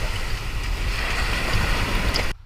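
Ocean waves wash and slosh around divers wearing heavy dive gear at the surface, a loud, close churning roar with wind noise that cuts off abruptly at the end.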